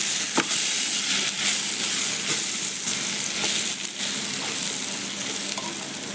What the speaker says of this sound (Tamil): இதையும் நல்லா வதக்கி எடுப்போம்.